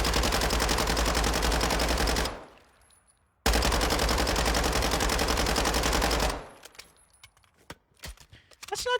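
Automatic weapon fire in the video game Warzone 2: two long, loud, rapid bursts of gunfire, each about two to three seconds long, followed by shell casings tinkling and clicking.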